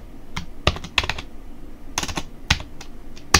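Computer keyboard keys clack in short irregular bursts as a URL is typed, with a final sharper press for the enter key; crisp, close and fairly quiet, with no talking.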